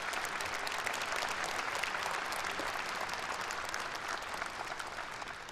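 A ceremony audience gives sustained applause after a performance at a March 1st Movement anniversary event, a dense, even roar of many hands clapping, heard at a moderate distance and holding steady throughout.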